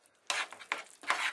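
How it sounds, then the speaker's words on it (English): Diced potatoes tumble into a pan of corned beef in three quick rustling, scraping bursts, close and soft, each followed by a faint sizzle, with no one speaking. "add in your diced potatoes"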